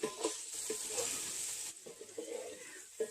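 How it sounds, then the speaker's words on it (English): Hash browns sizzle in an electric skillet as they are stirred, a soft steady frying hiss with scraping stir strokes, quiet and close. "Stir this up a little bit."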